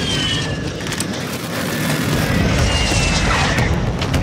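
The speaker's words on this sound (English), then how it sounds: "Request an airstrike at this location." An airstrike explosion in Call of Duty DMZ gives a loud, sustained, low rumbling roar that swells toward the end, with faint whooshing overhead and no talk.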